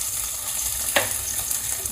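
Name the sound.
frying cashews and raisins in oil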